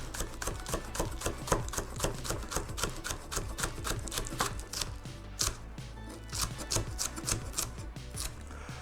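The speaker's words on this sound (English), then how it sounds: "just slice up your spring onion in the little slices" A knife slices spring onion on a chopping board in rapid, steady taps, close and crisp, running continuously with no talking, during a catch-and-cook at North Shields Fish Quay.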